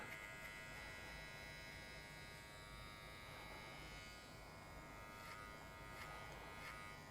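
Electric hair clippers buzz steadily while trimming short hair at the nape, a close, constant whining hum with slight shifts as the blades move through the hair.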